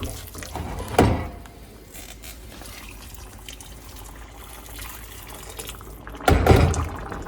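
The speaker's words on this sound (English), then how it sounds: "let me add the hot water to it" Hot water is poured into a fish curry with two louder splashing bursts near the start and end, separated by a steady low bubbling and trickling of boiling in between.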